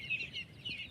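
Chickens at a home chicken farm give soft, brief clucks and chirps, a few quick calls close by in a quiet yard.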